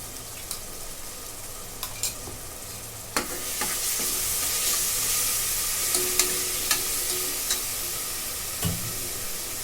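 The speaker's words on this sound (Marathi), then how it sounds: "आता हे चांगलं परतून घेते" Masala with soaked dried green peas, onion, tomato and ginger-garlic-coriander paste sizzles and frys in a pan, a steady hiss broken by sharp scrapes and clicks of a spoon stirring at irregular moments.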